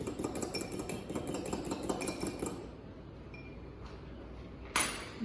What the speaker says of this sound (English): I'm going to grab a fork and give that a stir